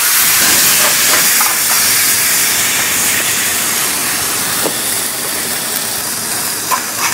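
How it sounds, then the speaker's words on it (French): A mushroom sauce flambéed with cognac gives a loud, broad hiss and sizzle that starts strong and slowly eases off, with a few small pops. "On va flamber ça au cognac."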